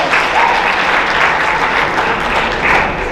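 Athletes at a spring sports awards night give themselves a round of applause, a steady loud wash of crowd clapping that holds evenly throughout.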